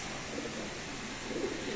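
Racer pigeons in cages at a pigeon market give soft, low cooing over a busy background murmur, brief and fairly faint.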